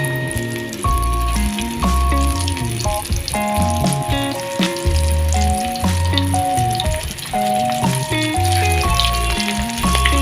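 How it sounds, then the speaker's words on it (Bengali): Mutton paneer kofta balls hiss steadily as they fry in hot oil over a low flame, a continuous sizzle running the whole time beneath loud background music. "মটন পনির কিমা বল আমি তেলে ছাড়বো, আর আঁচটা আমি লো করে দিলাম"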